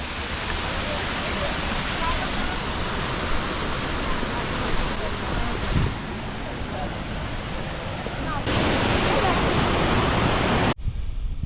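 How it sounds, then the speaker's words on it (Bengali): A waterfall near Cherrapunji in Meghalaya roars as a loud, dense, continuous rush of falling water. It fills the whole clip and briefly cuts out near the end. "এটা হচ্ছে ঝর্ণা।"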